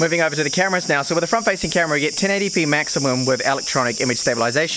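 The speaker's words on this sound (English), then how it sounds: "that's just some cicadas in the trees" High cicadas buzz steadily in trees outdoors, a continuous shrill drone running beneath a man's close, clear talking throughout.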